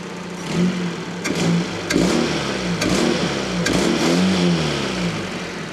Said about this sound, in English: I love the throttle response on this engine.